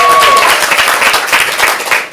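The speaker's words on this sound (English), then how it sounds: "If you accepted Steve's apology and you don't want them to lose points, applaud now." Audience at a live ComedySportz improv show in Portland claps and applauds loudly and steadily, a dense close-up burst of clapping that carries through the whole moment.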